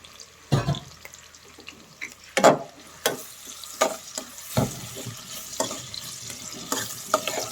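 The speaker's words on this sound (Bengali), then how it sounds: "এখন আমি এই তেলের মধ্যে দিয়ে দিচ্ছি অল্প পরিমাণে পেঁয়াজ কুচি" Chopped onion frying in oil for a chicken roast, a steady low sizzle broken by several sharp clanks and scrapes of a stirring spoon against the pan, close and fairly loud, no voices.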